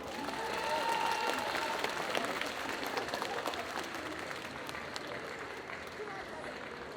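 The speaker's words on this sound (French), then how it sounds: "Faites un tonnerre d'applaudissements." Audience clapping for a cosplay parade at a French game show, a steady wash of applause that peaks early and then eases slightly, with voices mixed in.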